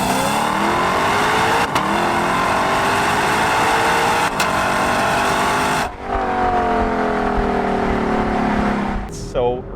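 A 2021 Lexus LC 500 Convertible's engine revs hard on an open road, its rising tone broken by two quick upshifts before a lift off the throttle and a brief final surge, loud and close.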